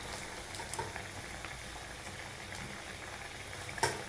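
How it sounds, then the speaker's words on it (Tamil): Lentils for mango and drumstick sambar bubbling in a pot: a quiet, steady simmer of small pops and bubbling, with a sharper splash near the end. "இப்போ பருப்பு போட்டு நல்லா கொதிச்சுட்டுருக்கு."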